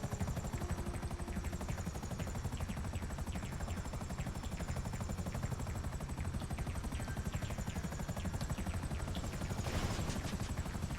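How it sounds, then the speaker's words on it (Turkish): A helicopter in the video game Grand Theft Auto V Online runs steadily throughout, its rotor chop a dense, continuous, rhythmic thrum at constant loudness. "Şuraya park edebiliriz helikopterimize."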